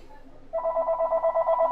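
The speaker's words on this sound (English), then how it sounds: "That's a phone call." A telephone starts ringing partway through, a steady pulsing electronic ring that follows a quiet stretch, loud and close.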